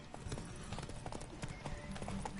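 Rapid hoofbeats of a horse galloping in The Witcher, a quick clip-clop rhythm that is faint and steady under background game sound.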